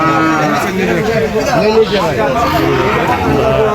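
Cattle at a busy cow market low and moo in overlapping calls that carry through the whole stretch, loud and close, with crowd chatter and people talking underneath.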